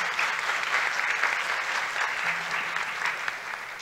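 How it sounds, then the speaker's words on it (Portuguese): Audience applause at a conference session honouring a woman, a steady wash of many hands clapping throughout, moderately loud and continuous with no talk over it. "palmas para ela"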